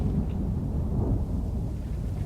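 Steady heavy rainfall with a low, rolling rumble of thunder fills a battlefield scene in the strategy game Third Age Total War, a constant wash of storm noise with no voices over it.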